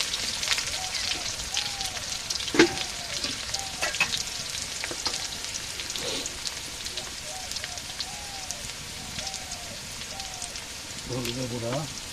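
Potatoes sizzle steadily in a hot pan for a potato and egg curry, a continuous crackling hiss with occasional stirring clinks, and a voice speaking briefly near the end.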